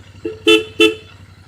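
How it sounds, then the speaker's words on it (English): Two short high-pitched honks from a Royal Enfield Bear 650 motorcycle's European-style horn, close and loud, preceded by a brief lower tone over an idling engine. "Sounds like a higher pitched European horn."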